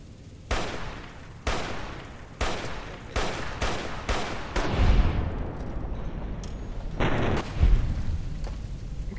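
Repeated gunshots in Fallout: New Vegas, sharp loud bursts spaced about a second apart, with a few closer doubled shots later and a low boom midway, no talking.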